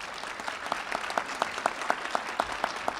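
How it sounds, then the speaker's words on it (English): Audience clapping at a Wreaths Across America welcome ceremony for soldiers' families in Monroe-Woodbury, a steady dense patter of many hands with a few sharper claps standing out, fairly close and continuous throughout. "So give them a nice round of applause."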